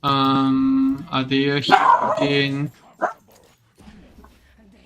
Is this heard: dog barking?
yes